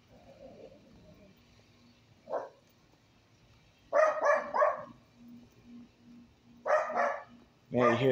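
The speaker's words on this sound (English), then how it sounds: "May you hear the dogs barking." Dogs bark in several short bursts of two or three barks at a moderate distance, with quiet gaps between them. A person speaks faintly at the start.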